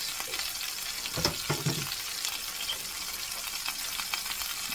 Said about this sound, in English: I am going to move them around the skillet a little bit.